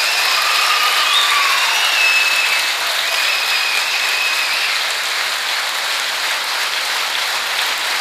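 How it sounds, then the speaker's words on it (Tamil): An audience at a speech in an academy hall claps loudly as one steady wash of applause that barely changes for the whole stretch, with no voices heard. "முத்தமிழறிஞர் கலைஞரின் ஆணைக்காக நீங்கள் கைதட்டி கொண்டிருக்கிறீர்கள்."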